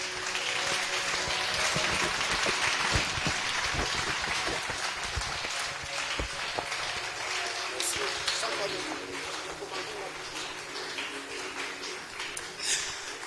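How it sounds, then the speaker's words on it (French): Church congregation applauding and cheering for the Lord at a worship gathering, a steady dense wash of clapping and shouts sustained throughout with bursts of louder cries near the end. "tu acclames très bien pour le Seigneur"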